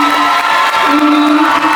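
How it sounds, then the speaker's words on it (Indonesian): Cheering and clapping from a school crowd of students and staff at an anniversary celebration for SMK Widya Dharma, a dense, steady roar of whoops and shouts with a sustained tonal voice running through it. "kita berikan tepuk tangan di hari ini"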